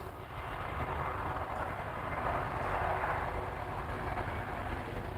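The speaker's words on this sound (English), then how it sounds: "you could hear the train" An express train passes near the River Thames, a broad, steady rumbling roar that swells in the middle and eases slightly toward the end, heard alone without speech.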